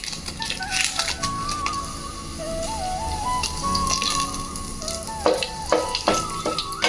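Stone flower, cinnamon and bay leaf sizzle and crackle in hot oil in a pot, a steady close frying hiss with sharper pops and clinks near the end.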